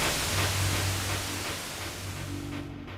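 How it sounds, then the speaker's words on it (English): Broadband hiss of TV white-noise static inside a video game, steady and loud with no speech over it. "Now it's a TV with white noise"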